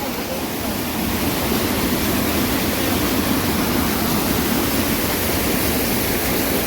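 A waterfall in the Hunza valley of Pakistan sends up a steady, loud, broadband roar of rushing water, continuous and unbroken from start to finish with no voices.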